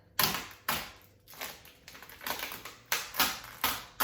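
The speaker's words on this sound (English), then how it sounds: "you're just gonna peel it off nice and smooth" Adhesive stencil being peeled by hand off a wooden sign, giving a series of sharp ripping, crackling bursts in quick succession, close and fairly quiet with no one talking.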